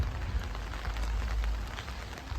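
Rain falls outdoors in Ardesio, a mountain village in Italy, a soft, even patter on surfaces with a low rumbling background, fairly quiet and continuous, no voices.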